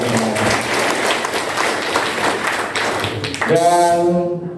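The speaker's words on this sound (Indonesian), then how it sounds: "Tepuk tangan guru penggerak." Applause for guru penggerak teachers at a teachers' symposium in West Lombok, a broad crowd clapping steadily throughout before a voice cuts in near the end.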